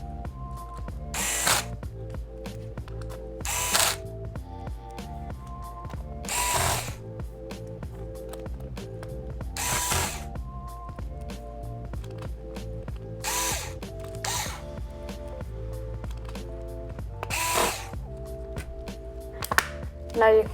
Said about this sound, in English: And then you can put the screws back into the motherboard.